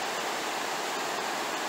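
A river flows near the falls in Manchester, making a steady, broadband rushing wash of water that holds even and unbroken throughout, with no talking.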